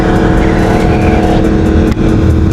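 Yamaha sport motorcycles, an MT-07, MT-09 and YZF-R1, with throttle opened, giving a loud, continuous engine roar that stays dense and steady throughout, briefly dipping near the end.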